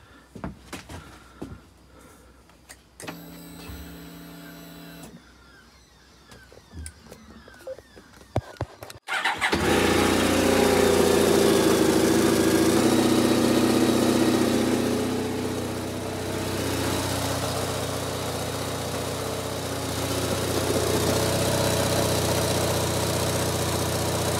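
A Honda VFR1200X Crosstourer motorcycle fires up after a back-wheel repair, its engine running steadily and loudly close by after a few seconds of quiet clicks and handling noises, with no talk.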